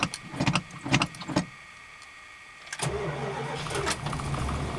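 A 1977 Chrysler Cordoba's engine is cold-started: several sharp cranking bursts from the starter, a pause, then the engine catches and settles into a steady, fairly loud idle close by.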